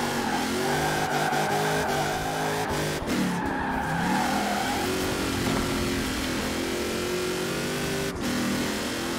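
Cars race in Forza Horizon 4, with engines revving and shifting through gears, tires squealing and skidding, loud and continuous throughout.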